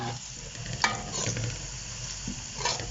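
Onions frying in hot ghee for aloo matar, a continuous close sizzle and hiss with a couple of brief stirring knocks, no talking.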